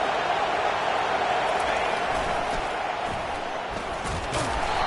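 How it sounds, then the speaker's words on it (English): Crowd noise in a college football video game, Tennessee against South Carolina on first and goal: a dense, loud stadium roar that holds steady throughout, with faint thumps inside it. "Fans are bringing the noise on 1st and goal."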